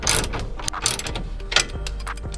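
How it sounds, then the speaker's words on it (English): A torque wrench ratchets while coilovers are tightened, producing a quick series of close metallic clicks and clacks in uneven bursts, with no talking. "I'm gonna set the torque wrench to 69."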